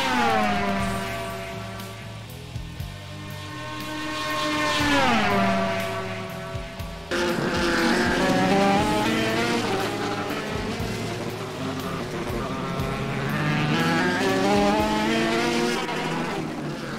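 Race cars in an IndyCar Brasil DTM event at Spa-Francorchamps roar continuously, engines rising and falling in pitch as they pass and shift, loud and sustained with no talk.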